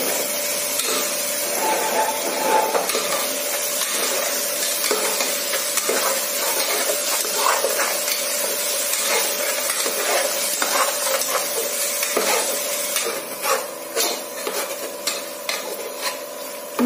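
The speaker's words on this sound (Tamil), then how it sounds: "ஆட் பண்ணி அதையும் நல்லா ஃப்ரை பண்ணிக்கலாங்க" A ground paste of shallot, green chili and mint fries in a pan for tomato biryani, giving a loud continuous sizzle with steady stirring scrapes that grow more distinct and rhythmic near the end.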